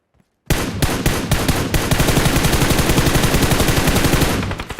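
Gunfire in a ranked match of a shooter video game: after a brief silence, a sudden long burst of rapid automatic fire rattles loud and close, continuing almost unbroken for about four seconds before easing off.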